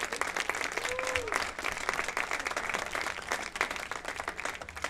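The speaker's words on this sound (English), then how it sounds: "Let's give a round of applause to Chase and Logan." Crowd applause at a high school baseball field ceremony, a steady wash of clapping across the full stretch with a whistle-like tone early on.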